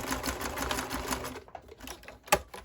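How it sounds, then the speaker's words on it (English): A sewing machine backstitches across the end of a tote bag, running in a fast, steady whir that stops abruptly, followed by a quieter pause and a sharp click near the end. "Backstitch on the end here."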